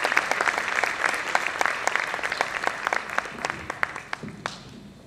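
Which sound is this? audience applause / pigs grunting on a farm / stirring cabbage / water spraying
audience applause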